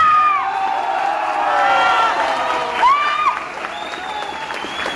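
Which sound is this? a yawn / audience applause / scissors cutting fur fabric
audience applause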